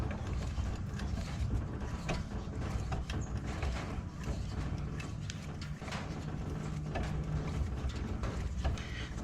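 A car jack handle is turned while changing the spare tire on a Nissan Note, producing continuous close metallic ratcheting and clicking over a noisy outdoor background.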